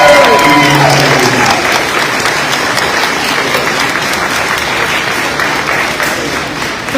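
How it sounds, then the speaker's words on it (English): Loud, sustained applause from a large audience at an elementary school 5th grade promotion ceremony, a dense wash of clapping that stays steady for the full seven seconds while a voice briefly speaks over the opening moment. "let's give her a round of applause"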